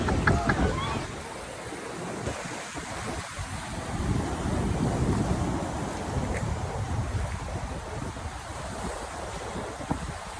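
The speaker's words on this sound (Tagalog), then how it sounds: "Lakas ang alon, no?" Heavy surf rolls and crashes continuously, mixed with gusty wind buffeting the microphone, with faint voices underneath.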